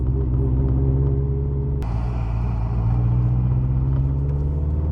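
A tuned Subaru Forester STI with a big turbo cruises along a road, its deep steady engine rumble droning close and even from inside the car, with a short thump partway through.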